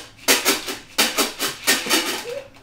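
A toy shaker filled with chocolate chips is shaken in several quick bursts, a bright close rattle repeating in short rhythmic groups with no talking.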